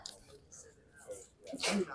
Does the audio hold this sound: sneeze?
yes